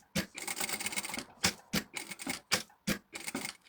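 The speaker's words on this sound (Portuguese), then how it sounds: "E vamos passar uma costura à largura do calcador." A sewing machine runs a seam at presser-foot width in short bursts, rapid clattering stitches alternating with brief pauses, close and fairly quiet, with no speech.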